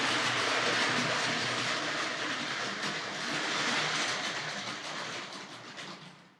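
A Tri-ang Railways RS.2 model express passenger train runs along its track with a continuous close rolling rumble and clatter that swells slightly midway, then fades toward the end.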